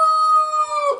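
Rooster crowing on a poultry farm, a single loud, sustained, close crow with a steady pitch that breaks off at the end.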